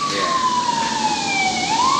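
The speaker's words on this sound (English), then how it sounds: "Siren was right on cue." An emergency vehicle siren wails in the city of Phoenix City, a loud, continuous tone sweeping slowly downward and then rising again, close and alone without any talk.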